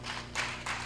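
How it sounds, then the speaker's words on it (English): Scattered applause from an audience at a campus leaders summit, with a few distinct bursts of clapping over a low steady hum and no talking. "Can we give another round of applause?"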